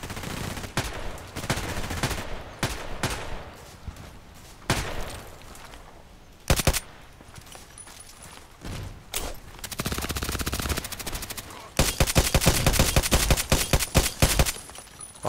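Glock 17 pistol fire in the shooter game Contract Wars, sharp single shots spaced irregularly, then a dense burst of rapid automatic fire near the end, loud and close, no talking.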